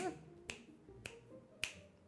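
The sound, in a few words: finger snapping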